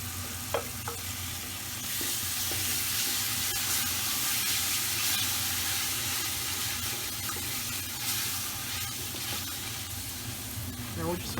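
A tomato and eggplant mixture for Persian Mirza Ghassemi hits a hot pan with crushed garlic and turmeric, setting off a loud, steady sizzle that holds throughout, with a few faint clinks of stirring.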